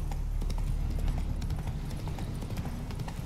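Roach, Geralt's horse in The Witcher 3: Wild Hunt, trots with a steady rhythmic clip-clop of hooves, close and prominent over a low rumbling game ambience, without a break throughout.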